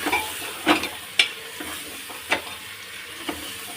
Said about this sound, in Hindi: और इनको कर देते हैं अच्छे से मिक्स।